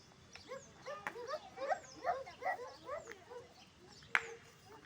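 A dog barks repeatedly in quick bursts at moderate distance on a school playground, with an outdoor background and a sharp knock near the end.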